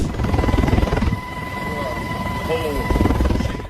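A military helicopter flies over waterways on a routine drill, its rotor thumping in a loud rhythmic chop that dips in the middle and then returns, with a steady engine whine and talk over it.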